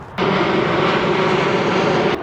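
An airplane passes low overhead near Gimpo, a loud, steady roar of engine noise that starts suddenly and holds at full volume without voices.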